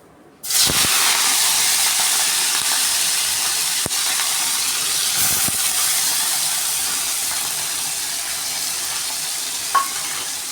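Cut fish pieces drop into hot oil in a wok with a sudden loud burst of sizzling that settles into a steady, close hiss, fading slightly over the clip.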